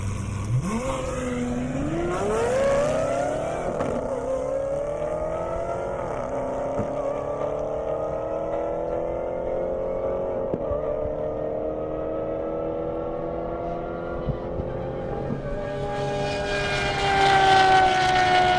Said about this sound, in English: That Aventador sounds amazing.